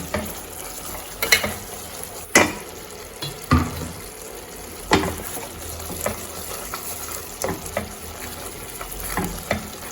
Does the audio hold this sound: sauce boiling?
yes